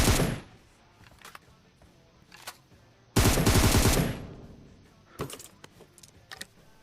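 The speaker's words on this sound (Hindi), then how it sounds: "मैंने देखा यार वो गोली चला रहा है, सारी गोली लगे जा रही है मेरे पे" Video game gunfire comes in sharp separate bursts, one long loud volley in the middle and shorter rattling shots before and after, over a quiet background.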